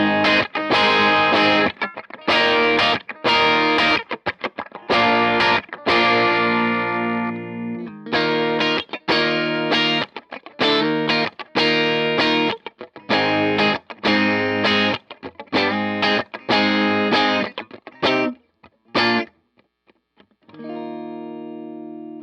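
An electric guitar through a Tone King amp's lead channel, breaking up as it plays choppy strummed chords and riffs with gritty overdrive, loud and close, ending with a few sustained chords and brief pauses.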